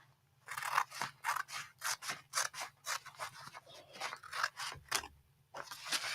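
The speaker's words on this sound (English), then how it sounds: "let's cut this side down" A string of quick scissor snips cutting through material, about a dozen crisp cuts in steady rhythm, close and clear with a soft low hum behind.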